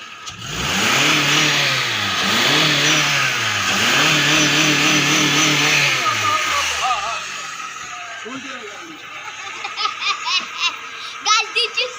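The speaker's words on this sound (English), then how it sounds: "Did you saw that loud engine?" Loud car engine revving hard in steady cycles for about seven seconds, then cutting off, leaving quieter background noise with faint voices and a few sharp clicks.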